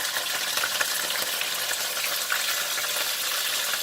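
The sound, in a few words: frying frozen green onions in a pan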